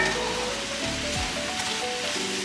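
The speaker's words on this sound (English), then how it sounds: "Turn this up a little bit more so you can hear the sizzle" Food crackles and sizzles steadily in a hot pan, a dense hiss with small pops, alone and fairly close.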